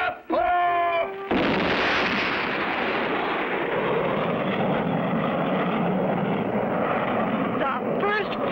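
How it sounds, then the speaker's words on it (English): A cartoon rocket ship to the moon blasts off with a loud, sustained roaring rumble that swells and holds steady. A voice counts down just before the roar begins. "2, 1, blast off!"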